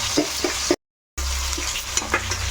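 Garlic and curry leaves sizzling in hot oil in a pan for gongura pickle, a steady close fry with a few soft stirring scrapes. The sound cuts out briefly midway.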